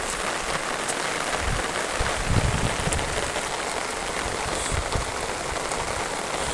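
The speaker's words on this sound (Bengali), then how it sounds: "চতুর্দিকে শুধু বৃষ্টি, এখনও অনাবৃষ্টির মতো বৃষ্টি হচ্ছেই" Heavy morning rain pours down during a prolonged downpour, a dense, loud, steady hiss of drops on surfaces with no talking.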